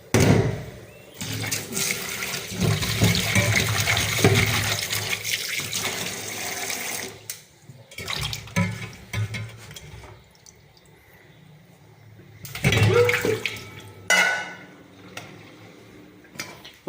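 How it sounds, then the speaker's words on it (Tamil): Tap water runs steadily into a kitchen sink while five tomatoes are washed by hand, with splashing and brief pauses in the flow and a second surge of running water near the end. "தக்காளி நல்லா கழுவிடுங்க."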